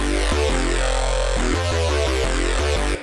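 Heavy synth bass processed through a single band compressor plugin, thick and dense with sustained low notes that shift pitch in a rhythmic pattern, loud and continuous throughout without any voices.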